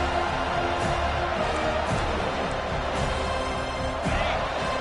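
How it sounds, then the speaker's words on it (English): A football stadium crowd on third down roars in a dense, steady wall of cheering that stays loud throughout, with some faint talk mixed into the din. "Decibels rising as the crowd gets behind this defense on 3rd down."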